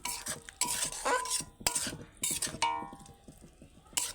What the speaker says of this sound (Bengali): এবার এই যে উপর দিয়ে সরষের তেলটা ছড়িয়ে দেবো দিয়ে একটু নাড়াচাড়া করে নিয়ে